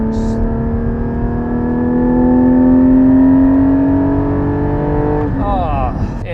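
A 2020 Porsche Cayman GT4 with its naturally aspirated engine pulling hard from inside the cabin, a close rising tonal drone that climbs steadily in pitch for several seconds before easing off, with a voice heard at the end.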